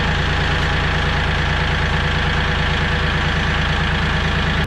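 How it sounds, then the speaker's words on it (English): A cold Kioti CK3520 backhoe tractor engine idles steadily while warming up on a chilly morning, a loud, even diesel rumble with a faint rhythmic knock running unbroken and close by. "While the tractor's warming up a little bit, it was cold this morning."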